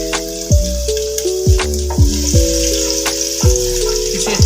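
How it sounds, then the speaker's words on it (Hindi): Chopped garlic sizzles and crackles steadily in hot ghee in a pan, with a few sharp clinks and scrapes of a utensil cutting through the frying, close and without talk. "अब हम डाल रहे हैं इसमें लहसुन अपना जो चॉप किया हुआ है।"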